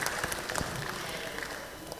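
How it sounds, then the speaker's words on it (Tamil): Applause from the audience at the opening of a prize-giving ceremony for a reading contest and film reviews, moderate crowd clapping with a few sharper claps standing out, fairly steady and somewhat distant. "உங்களுக்கே நீங்கள் எல்லாரும் சேர்ந்து ஒரு கைத்தட்டல் கொடுத்துடலாம் ஒன்ஸ் அகேன்"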